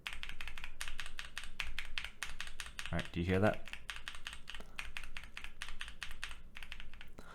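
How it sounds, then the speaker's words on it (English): Rapid keystrokes on a keyboard fitted with Durock T1 and Sunflower tactile switches, a dense run of crisp, close clicks and clacks, with someone briefly speaking partway through. "the Sunflower is slightly higher pitched than the T1"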